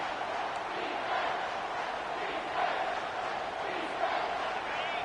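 Stadium crowd in College Football 25 roaring steadily behind the defense on third down, a dense, continuous wash of cheering with slight surges, no clear voices standing out.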